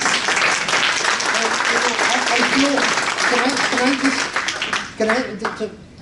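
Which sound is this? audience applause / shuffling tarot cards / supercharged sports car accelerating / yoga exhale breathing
audience applause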